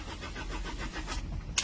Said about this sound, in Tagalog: Problema natin dito ay ayaw siyang mag-start kahit na mainit na siya.